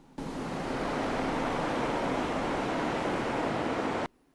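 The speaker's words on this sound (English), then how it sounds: "Ulterion heard water crashing on the beach." Waves crashing on a beach, a dense, steady roar of surf that starts abruptly and cuts off sharply, loud and unbroken with no voices.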